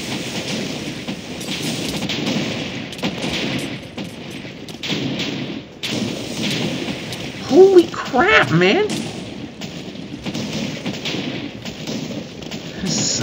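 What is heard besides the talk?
TNT explosions in the video game Minecraft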